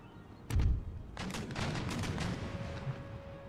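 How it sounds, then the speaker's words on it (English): Musket volleys and cannon fire in the Empire Total War video game: a heavy boom lands first, followed by a sustained crackle of scattered musket shots rolling on in the distance. "Guns fire."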